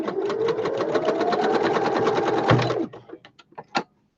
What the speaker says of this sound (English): So you sew all the way around the edges.